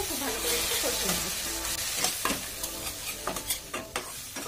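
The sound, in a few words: spices and mashed tomato being stir-fried for fish curry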